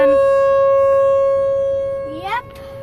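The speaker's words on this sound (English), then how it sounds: "Siren's going off right now." Civil defense tornado siren being tested in Omaha, a loud sustained wailing tone that holds steady and then sweeps as it rotates, with a brief voice near the end.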